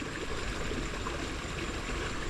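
River water flows steadily beside a sandy bank, a constant close rushing wash with no talking over it.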